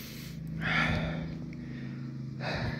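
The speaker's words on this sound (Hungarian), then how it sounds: "Ja, úgy lihegek, mint egy 80 éves." Heavy, ragged breathing and gasping after a bicycle ride, close to the microphone, two long loud exhales about two seconds apart with quieter panting between and no talking.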